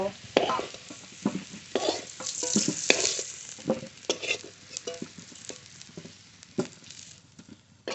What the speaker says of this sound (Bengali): আলু ভাজা তেলের মধ্যে